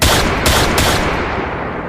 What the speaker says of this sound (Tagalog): Narinig ko ulit ang mga sunod-sunod na putok.